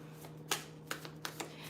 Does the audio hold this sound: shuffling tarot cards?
yes